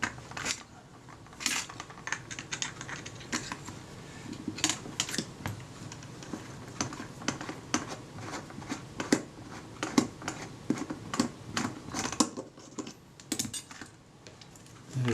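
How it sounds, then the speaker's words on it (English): A small tool works the retainer ring on a Retina IIIc camera, producing a steady run of faint, dry metallic clicks and scraping ticks, close up with quiet pauses between them. "I've got a tool here which engages the retainer ring"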